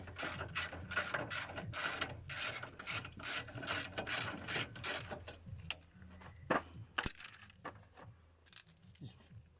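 A hand ratchet clicks in quick bursts while driving retaining screws on an MGF suspension coil conversion kit, the sharp pawl ticks loud and close, pausing between strokes, with a few isolated clicks near the end.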